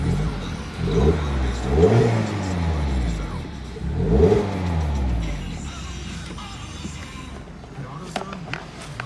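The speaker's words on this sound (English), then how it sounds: "Let's give it some blips and see how it sounds." A 2019 Mazda Miata (ND) engine is blipped twice, each rev climbing sharply and falling back to idle, followed by a steady idle with faint clicks.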